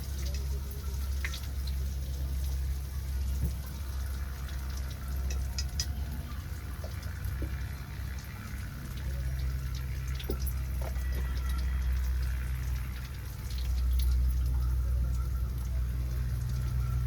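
Water pours and trickles steadily into a pot with occasional drips and light clinks, continuing quietly for a long stretch.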